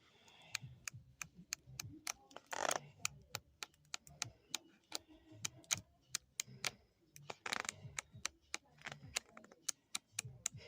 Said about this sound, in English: It's lightweight cardstock, but let's take a flip